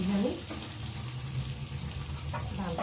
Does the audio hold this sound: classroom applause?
no